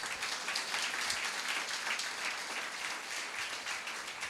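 A church congregation claps for God during a Telugu sermon: dense, steady applause from many hands, fairly loud and sustained throughout with no speech over it.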